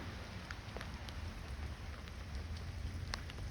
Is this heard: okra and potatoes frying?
no